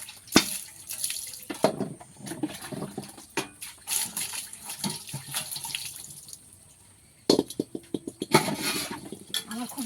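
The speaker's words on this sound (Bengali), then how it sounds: "রান্না হয়ে গেছে, এখন বাসন থালাগুলো মাজছি।" Dishes and plates being scrubbed and rinsed after cooking: bursts of running water, splashes and clinks of utensils come close and in uneven spurts, with a brief quiet pause partway through.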